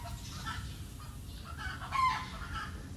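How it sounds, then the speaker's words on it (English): Chickens cluck and a rooster crows at a moderate distance in Thailand over a low outdoor rumble, the crow rising briefly near the middle. "Those chickens need to be turned into KFC soon."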